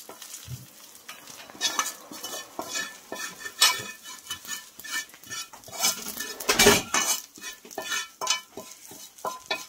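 Whole spices crackle in hot oil as tempering goes into mixed vegetable masala khichdi in a pan, with a spoon scraping and clinking against the metal in an irregular stirring rhythm, close and moderately loud, no voices.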